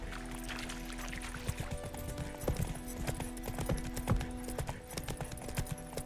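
Hooves of a horse galloping in The Witcher 3, giving a faint, steady clip-clop rhythm over a constant low background drone.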